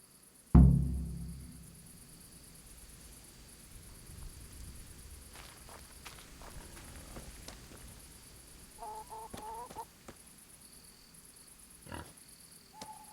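Hens in the medieval video game Kingdom Come Deliverance clucking in short scattered bursts after a sharp thump, with quieter game ambience between calls.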